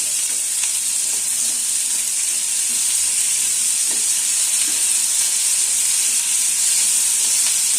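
Onion, garlic and tomato sauté in a pan over a medium flame for a curry leaf chutney, a loud, steady sizzle with occasional stirring scrapes and no talk.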